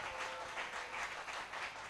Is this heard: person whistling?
no